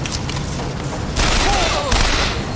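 Rapid video game gunfire from Bioshock Infinite, a dense rattling fusillade that swells louder partway through and runs continuously under the game's ambient noise.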